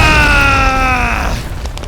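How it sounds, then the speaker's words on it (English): An explosion from laser blasts fired by large missiles in an audio drama: a loud, full, sustained roar with a descending tonal whine that fades out over under two seconds. "The resulting explosion sending Tommy and Tanya flying"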